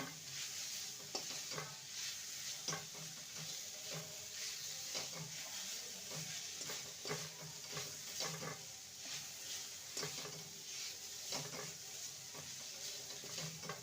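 A spoon stirs a semolina and milk-powder coconut filling in a pan, soft scraping strokes repeating in a loose rhythm over a faint continuous sizzle, close and quiet with no voices.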